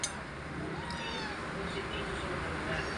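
A rescued stray cat picked up from the street meows faintly and intermittently against steady background noise, with a voice speaking nearby.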